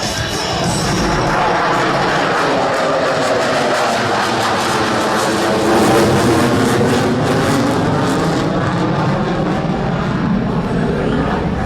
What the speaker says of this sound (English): From the right, the Super Hornet high speed pass.